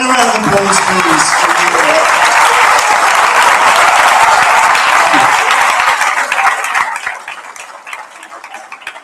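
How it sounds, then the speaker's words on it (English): Audience at a secondary school prizegiving breaks into sustained, dense applause that fills the hall for about seven seconds, then thins out to scattered claps as it fades. "And a round of applause, please."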